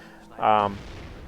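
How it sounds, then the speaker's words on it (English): Mortar fire in a World War II strategy game on the St. Mere map: a single short distant boom lands under a faint background bed, with no other sound around it. "Is that the mortar firing away over there? Yes, I hear little mortar shots landing on that side of the map."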